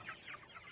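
Pasture broiler chickens cluck softly in a coop, a few faint, brief calls over steady outdoor background noise.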